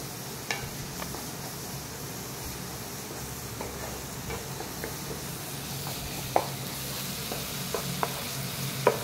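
Spice paste sizzling as it is stirred and sautéed in a pan, with a steady frying hiss and occasional soft clicks of the spoon against the pan, close by, with no voices.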